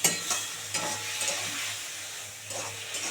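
Mustard paste stirred and fried briefly in a pan, a continuous hissing sizzle with soft scraping strokes of a spatula, close and moderately loud.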